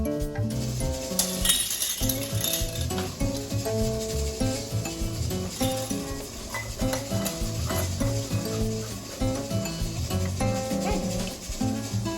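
Glass jars of home-canned mushrooms clinking against each other and the metal as they are set into a pressure canner, repeated bright clinks and knocks over a busy background with a dog barking.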